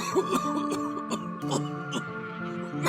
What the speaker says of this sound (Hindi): लगातार वो खांस रहे थे।